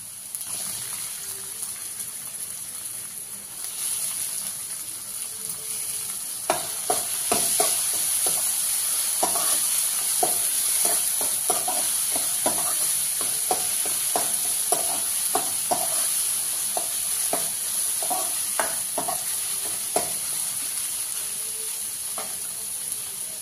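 Tomatoes fry for a fasting-style potato curry, a steady sizzle overlaid from about six seconds on by a run of sharp, rhythmic scrapes and clinks of stirring in the pan, close and clear with no talk.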